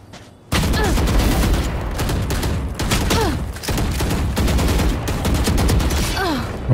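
Valorant gunfire: rapid bursts of loud, close shots in quick succession after a quiet start, with brief gaps between volleys and faint voices underneath.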